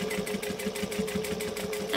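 A sewing machine stitches binding onto a fabric hussy case, a steady, even chatter of needle strokes with a constant motor hum, close and alone.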